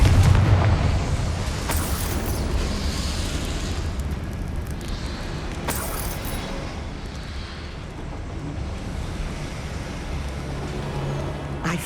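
Confringo blasting spell going off in Hogwarts Legacy, a loud booming explosion with rumbling low-end that lingers as a sustained roar, with sharp bursts near the start and around the middle.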